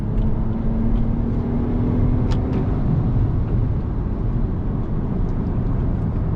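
A 2021 Toyota Avalon TRD sedan accelerating hard with brief tire spin and then braking, heard as a constant loud road and engine rumble from inside the cabin with faint ticks and squeaks.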